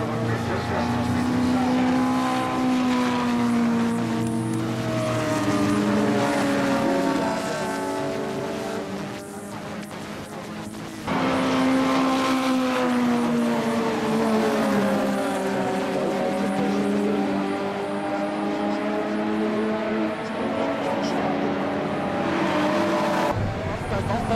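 Race cars, including Porsches and a backfiring Audi R8, racing around a circuit in a November 2012 race, with loud sustained engine roar and rising and falling gear tones throughout and a brief dip partway, under continuous race commentary.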